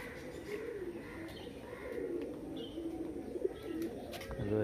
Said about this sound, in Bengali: রয়েছে পায়রা, বেশ কিছু পায়রা।